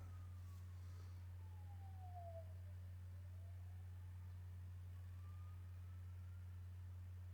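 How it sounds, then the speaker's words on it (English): Fire brigade siren wails faintly in the distance, one slow falling then rising sweep under a steady low hum. "It's the fire brigade, I think."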